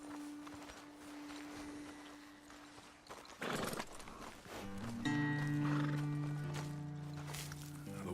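Horses whinny and neigh in the Red Dead Redemption 2 video game, with hoof clip-clop on a roadside ledge; one clear whinny rises midway over a steady outdoor backdrop and music-like tones.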